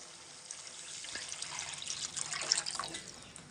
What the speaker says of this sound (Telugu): మనం ఇలా అయితే వాటర్ పోసుకోవాలి కదా ఫ్రెండ్స్.